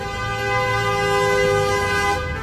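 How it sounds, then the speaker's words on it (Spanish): A car horn honks outside the Santiago Bernabéu stadium a few hours before a match, giving one steady, loud, sustained blast of about two seconds with no voices over it. "No me toques el claxon."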